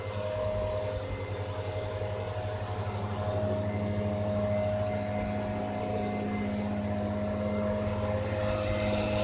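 A small Cessna propeller airplane circles overhead, its steady droning engine hum holding constant and moderately loud throughout, with no talking.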